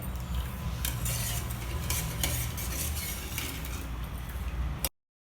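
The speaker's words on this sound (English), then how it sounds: "Mix everything together till the sugar dissolves and it comes to a boil." Sugar syrup with ghee is stirred in a pan as it heats toward a boil, a continuous soft scraping and swishing with faint sizzling and occasional utensil clinks, steady and close until it cuts off abruptly near the end.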